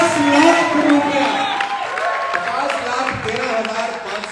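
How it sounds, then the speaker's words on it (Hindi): An event audience in Thailand breaks into loud cheering and applause, a crowded roar of clapping and whoops under a speaker's amplified voice that gradually settles. "जोरदार तालियां होनी चाहिए।"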